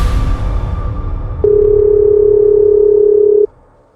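A single steady phone tone sounds clearly for about two seconds while a call is placed, then stops, with faint background noise before and after.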